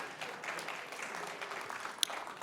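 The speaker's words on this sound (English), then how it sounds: "Yes, you can applaud for them." An audience at a family matinee concert in the SF Jazz hall claps in steady, fairly soft applause that carries on for the whole stretch without a break.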